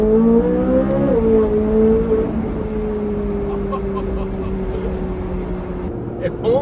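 A Corvette Z06 naturally aspirated V8 on its stock exhaust drones steadily nearby, rising briefly early on and then holding an even tone, with a person talking over it.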